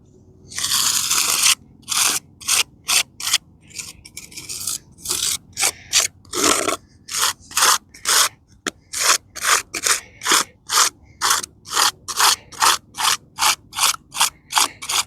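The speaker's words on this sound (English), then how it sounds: "So start scraping off that lichen, that moss" Repeated scraping strokes work lichen and moss off a weathered headstone, a close, loud rasping rhythm of about two dozen short, evenly spaced scrapes with brief pauses between them.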